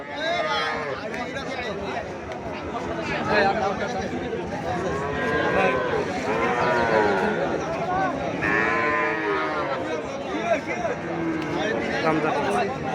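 Small Sahiwal bulls at a livestock market low and moo repeatedly, one call after another, amid a busy crowd of people chattering and a voice talking nearby.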